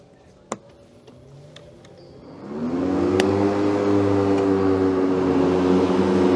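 An electric ride-on mower at a grounds-care machinery show starts up after a few faint clicks, its whine and hum rising to a steady, loud drone as it moves off.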